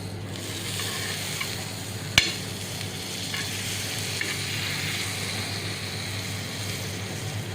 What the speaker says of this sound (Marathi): दुसरी बाजू जरा शेकली गेली की मी अमूल बटर सोडणार आहे बाजूनी